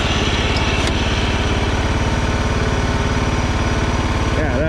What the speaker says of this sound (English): I can hear a really noisy idler under there.